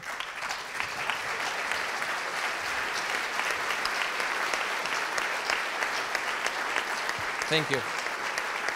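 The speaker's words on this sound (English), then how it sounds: "We want to recognize you, give you a big round of applause." A conference audience at a software engineering opening session claps steadily in a big round of applause, sustained and fairly even, while someone briefly speaks a short thanks over it near the end.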